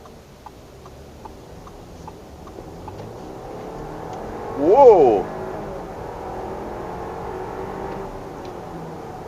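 A 2021 Audi Q5 accelerates hard from inside the cabin, engine note rising in a brief surge of revs amid road and tire noise, with a person exclaiming.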